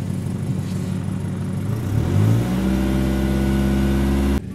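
A 1996 Toyota Camry with an overheating problem, its engine idling close by and then revving up, the pitch climbing and holding at a steady higher drone before the sound cuts off abruptly.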